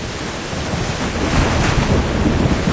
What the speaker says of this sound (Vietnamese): Cơn bão đã đổ bộ và mọi người phải trú ẩn.